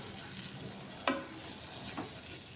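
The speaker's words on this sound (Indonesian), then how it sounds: "Kita tumis sampai bumbunya matang ya, sampai harum" Ground chili paste sautés in a pan with a soft, continuous sizzle, broken by one sharp utensil tap and a fainter scrape later.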